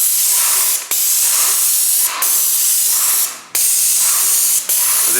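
Paint sprayer firing through a standard 311 tip while spraying a final coat in a house, loud close hissing bursts of about a second each, separated by short breaks as the trigger releases.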